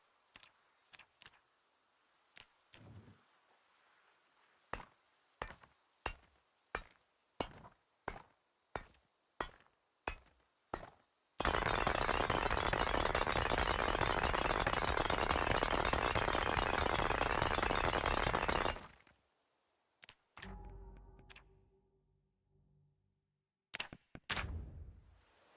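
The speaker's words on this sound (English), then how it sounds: "And I'm going to smash the rocks with my audio lowered." Rocks being smashed in the video game Project Zomboid, about a dozen sharp separate hammer knocks at uneven intervals, then a long loud rushing burst of noise, followed by a few more quieter impacts.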